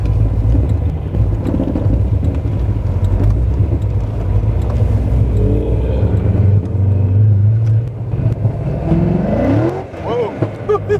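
A 750 rear-wheel-horsepower C6 Corvette revs hard on a cold day to heat its tires, giving a loud, close, sustained engine roar that rises and falls before easing off, with voices faintly mixed in.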